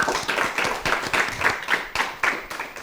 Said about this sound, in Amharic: እሺ አጨብጭቡላት